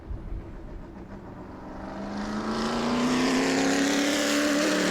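A modified race car engine climbs steadily in pitch as it accelerates during qualifying at New Smyrna, growing louder and nearer over a few seconds with a rising whine.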